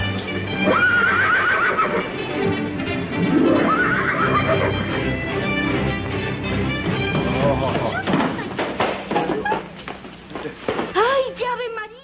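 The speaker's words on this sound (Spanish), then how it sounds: "Era un caballo tordillo." A trained dapple grey horse of the haute école whinnies loudly and repeatedly, with hooves clip-clopping, heard over a busy film soundtrack that also carries voices.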